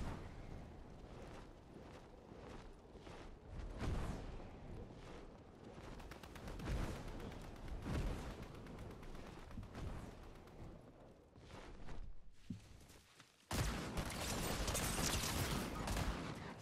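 Sustained SMG fire in a first-person shooter, long rattling bursts with short pauses and explosive-sounding peaks, loud and busy throughout, with a sudden louder stretch near the end.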